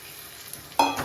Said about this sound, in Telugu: కొంచెంసేపు ఈ ఆయిల్లోనే ఎగ్స్ కానీ వేసి ఫ్రై చేసి రెండు నిమిషాలు